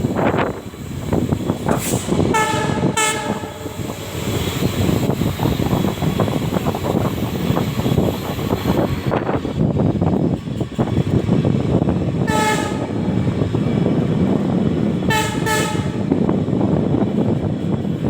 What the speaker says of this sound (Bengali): দেখলেন কিরম দেখা গেল, ট্রেনটা দেখালাম সামনে ও পেছনে